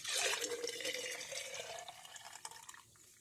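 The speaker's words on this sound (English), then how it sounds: "So, pour it inside your jar." Liquid is poured into a mason jar at a kitchen sink, a short quiet trickle and splash that tapers off over about three seconds, with a few faint drips at the end.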